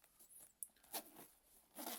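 The zipper on a watch's zip-up travel pouch is worked in a few short, faint, scratchy pulls, separated by quiet gaps. The pouch holds an Audaz Abyss Diver dive watch.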